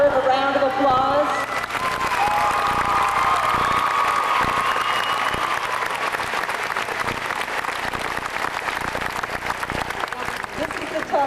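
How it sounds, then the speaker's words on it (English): Sustained applause and cheering from a graduation ceremony crowd honoring the senior class officers, loud and continuous throughout with a short musical tone at the start. "your senior class officers deserve a round of applause"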